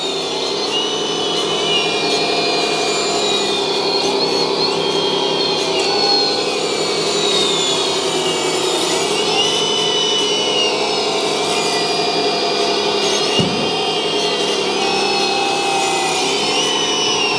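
A 1/14 scale RC John Deere E400 hydraulic excavator has its pump running in a steady, close, whining hum throughout, with small shifts in tone as it works.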